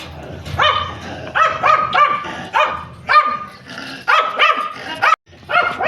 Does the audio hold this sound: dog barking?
yes